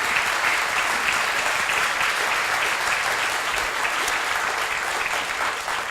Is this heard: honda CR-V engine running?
no